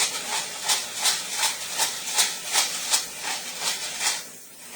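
Chopped onions sizzle in a pan as they soften for a sweet potato and black bean chili, a steady close hiss broken by regular brighter spitting pulses about every half second, fading at the end.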